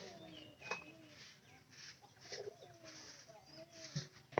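Pigeons at feeding time coo softly and repeatedly at a distance over faint ambient noise, with a few sharper knocks and chirps.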